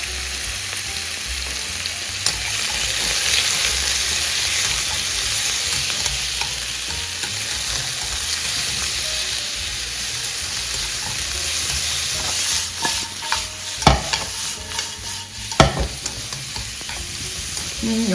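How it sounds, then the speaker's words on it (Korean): Seafood tossed with mushrooms in a hot pan for cream pasta fries with a steady close sizzle, while a utensil stirs and scrapes through it and a few sharper clanks stand out near the end. "여기다가 준비된 해물을 넣어서 볶아주세요"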